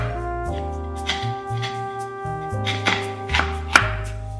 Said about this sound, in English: Now prepare a fresh Lotus root and peel it. Cut the head and the bottom of it.